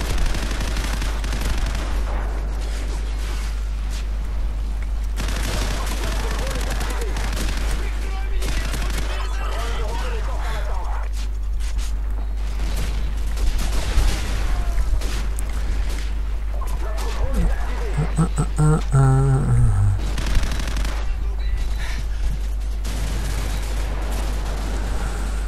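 Bursts of gunfire in Call of Duty 4, repeated shots and automatic fire mixed with game noise under a steady low hum, with talk in places.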